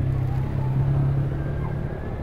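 A motorcycle engine runs close by, a steady low rumbling drone that holds at a fairly loud level without revving up or fading away.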